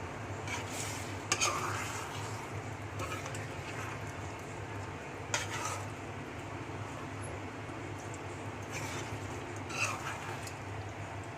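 Chicken pasanday being stirred in a pot after water is added to the oily masala, with scraping spoon-on-metal strokes at intervals over a steady low simmering hiss, close and moderate in level.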